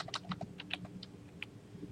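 Someone types on a computer keyboard while entering a Skype contact search, producing a quick burst of soft, close key clicks at an uneven rhythm, quiet and with no voices.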